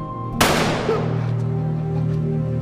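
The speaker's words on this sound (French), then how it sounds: "Juste un coup de feu pas de corps qui tombe." One sharp gunshot from Squid Game cracks out and rings off into a long, fading echo over a steady low hum.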